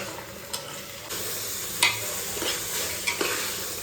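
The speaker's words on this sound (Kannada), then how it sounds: "ಈ ಕಾಳನ್ನ ಹಾಕ್ಕೊಂಡು 5 ನಿಮಿಷ ಫ್ರೈ ಮಾಡ್ಕೊಳ್ಳಿ." Sprouted beans fry in a pan with a steady close sizzle while a spoon stirs them, adding occasional scraping knocks over the constant hiss.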